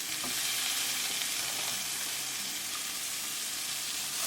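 Corn masala sizzles steadily in a pan on the stove while it is stirred, a dense, even frying hiss up close with soft scraping, no speech.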